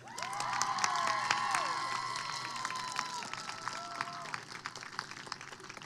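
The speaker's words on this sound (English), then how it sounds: "let's clap for each" Applause and cheering from a graduation crowd at a commencement ceremony for social work master's graduates, loud at first with whoops and calls, then gradually thinning into scattered claps.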